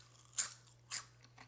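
Bites into a Japanese Christmas snack give two sharp, close crunches about half a second apart, then a fainter chewing crackle over a quiet, humming background.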